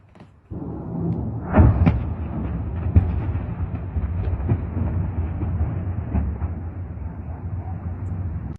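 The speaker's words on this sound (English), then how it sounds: "That engine is really making some noise, isn't it?" A heavy engine roars in a steady, rumbling drone that starts abruptly, with a few dull thumps scattered through the noise.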